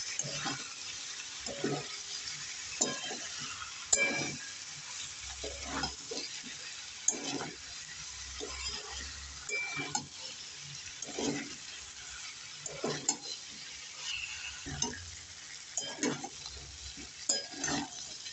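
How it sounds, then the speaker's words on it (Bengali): Vegetables and fried potatoes for a vegetarian paneer dish being stirred and fried in a pan, a spatula scraping in repeated strokes over a continuous, moderate sizzle throughout. "এবার নেড়ে চেড়ে সবজিগুলোকে তিন চার মিনিট কষে নেবো"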